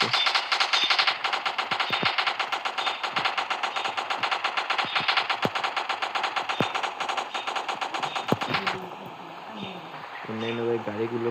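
Rapid machine-gun fire from the Rope Hero video game rattles loudly and continuously for about eight seconds, then stops and gives way to quieter game sounds with a short tonal effect near the end.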